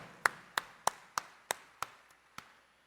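Crisp hand claps from a church congregation at a New Year's Day Mass at Quiapo Church honoring Nuestro Padre Jesus Nazareno: about eight sharp, evenly spaced claps, fairly faint, with a small room echo and no talking.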